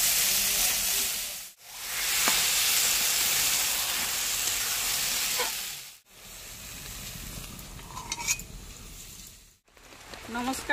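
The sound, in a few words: prawns frying in oil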